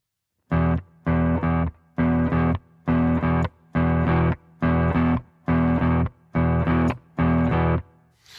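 Chunky, distorted electric guitar playing a repeating blues riff in short choppy bursts, muted on each beat, eight blocks separated by brief muted gaps, loud and up close.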